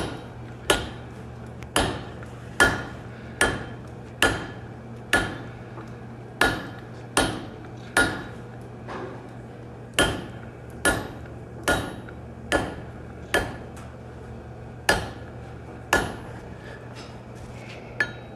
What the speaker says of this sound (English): That square edge that I talked about, going back with a saddle fuller.